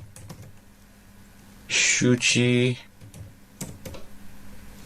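Someone types on a computer keyboard, entering Bengali text phonetically with the Avro extension, giving soft scattered key clicks at low level with a louder burst of sound in the middle.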